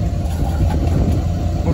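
A 2016 GMC Sierra pickup truck's engine runs while the truck is tied down, giving a steady, close, low rumbling drone for the whole stretch.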